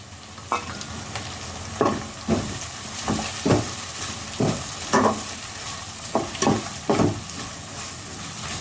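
Curry leaves sizzle and crackle in hot oil with fried chillies, a steady loud frying hiss punctuated by repeated bursts of popping and spatter.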